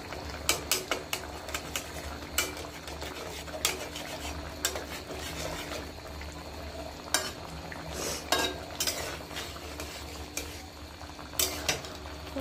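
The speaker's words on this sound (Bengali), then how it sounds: "তরকারিটা নেড়ে চেড়ে একটু জিরাটা মিশিয়ে নেব পুরো তরকারিটাতে" Fish curry with green banana and freshly added cumin paste stirred in a pan: irregular spoon scrapes and metallic clinks recur close-up over a steady low simmering hum, with no talking.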